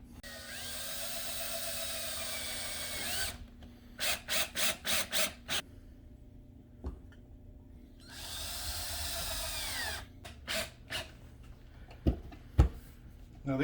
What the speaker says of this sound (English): I'll just put some regular Phillips screws in there